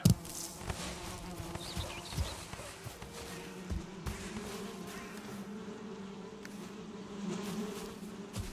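Four beehives in the Valheim video game give off a steady low buzzing hum, continuous and moderately faint, with scattered soft thuds and clicks of game activity over it.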